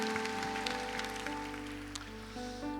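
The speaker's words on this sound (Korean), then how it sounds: "우리 이분들께 축복의 박수 한번 보내드릴까요?" A church congregation at Ansan Dongsan Church gives a round of applause during a Sunday service. The clapping is steady and moderately loud, with sustained organ-like tones held underneath.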